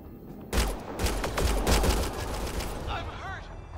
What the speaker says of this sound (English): Nyack, shoot it!